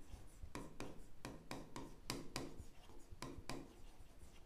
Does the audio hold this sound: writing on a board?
yes